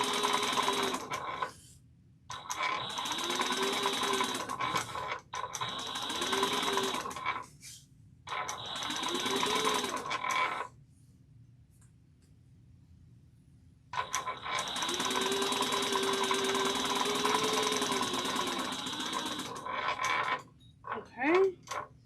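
A sewing machine bastes fabric for a travel bag at a long 4 stitch length, running in several close, steady whirring bursts separated by short stops and one longer pause.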